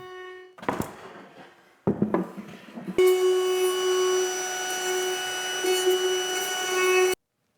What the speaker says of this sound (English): Now I just cleaned up the edges with the router